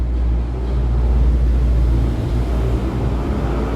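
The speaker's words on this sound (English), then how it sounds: "There's a lot of trucks and loud motorcycles, and it's annoying." Steady low rumble of road traffic, trucks and loud motorcycles passing in Brazil, heavy engines droning, continuous and moderately loud with no voices.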